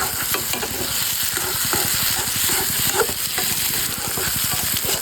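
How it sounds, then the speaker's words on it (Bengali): Rapid, rhythmic scraping strokes as mashed potato aloo bharta is stirred in a pan, close and busy over a continuous sizzling crackle. "সুন্দর মতো নেড়ে নিচ্ছি"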